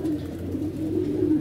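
Pigeons coo in a low, continuous, murmuring drone close by, a steady soft rumble of overlapping calls with no pauses.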